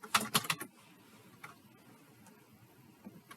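Quick bursts of clicky typing on a computer keyboard, a cluster of keystrokes up front and then sparse, quiet taps in a small quiet room.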